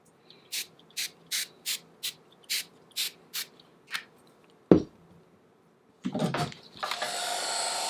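Several short hissing bursts of a spray-paint can in a quick series, then a sharp knock, followed by a longer, sustained spray.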